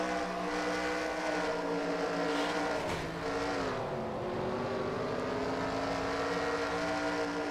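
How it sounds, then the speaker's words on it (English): A race car engine on the Eldora dirt oval in a racing video game drones steadily, then its pitch dips sharply as the driver lifts off the throttle before climbing back, heard close and moderately quiet. "You heard him bailing out of the throttle there."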